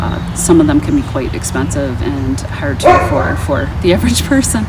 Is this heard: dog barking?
yes